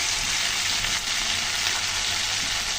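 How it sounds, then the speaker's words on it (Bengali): Masala for aloo dum fries in a pan, a dense steady sizzle with faint stirring scrapes, close and even throughout, with no voices. "মশলাটাকে সুন্দর করে কষিয়ে নিলাম।"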